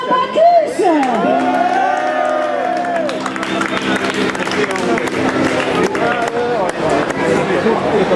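Audience cheering, whooping and applause greet a performer at a concert, with a loud crowd swell, whistling tones, and a busy roar that carries throughout with some voices mixed in.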